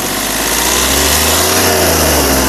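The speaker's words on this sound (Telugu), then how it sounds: "ఇంజన్ యొక్క నాయిస్ చాలా సైలెంట్గా ఉంది" A 2015 Hyundai Xcent SX car engine runs steadily at close range with a loud, continuous hum and a slight shift in pitch midway, with no voices.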